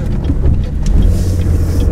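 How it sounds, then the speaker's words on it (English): Cars pass along a road near the Hudson Valley Balloon Festival on an early morning, a steady low rumble of engines and tyres with a faint rushing swell, continuous and fairly loud. "And look at all the cars already leaving."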